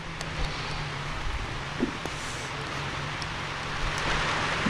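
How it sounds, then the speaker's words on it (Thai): Rain falls steadily at a rural Thai home, a continuous even hiss of drops with faint low rumbling and no voices. "เพราะว่ามื้อนี้ก็ฝนตก"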